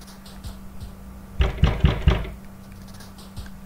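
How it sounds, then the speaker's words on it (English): Several sharp knocks on a front door in the video game Lucky Day, a quick cluster of four or five thuds over a low steady hum and faint ambient noise. "a knock on your door makes your blood run cold"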